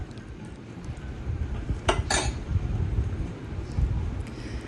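Sardine biryani with ghee being stirred in a pot, giving soft scraping and a couple of brief metallic clinks of the spoon or lid against the pot, close by and fairly quiet.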